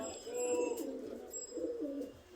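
Single male Saharanpuri pigeon of Naptha bloodline cooing in soft, low repeated bursts, close by, with a voice speaking over it.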